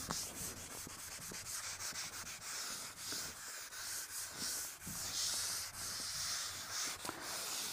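A board is rubbed clean during a chemistry lesson on hydrocarbons, giving steady scratchy swishing strokes in an uneven back-and-forth rhythm. The sound is close but fairly quiet, and no one talks over it.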